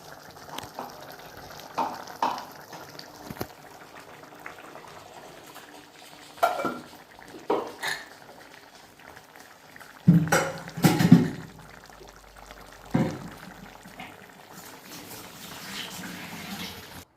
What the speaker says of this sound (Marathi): मिक्सरचं भांडं धुवून आपण पाणी टाकून घेऊ